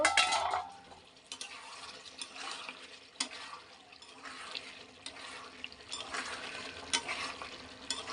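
A spatula stirs a pan of potato curry (crunchy potato chorchori), giving a steady scraping and soft sizzle with occasional louder clinks, close up and without voices.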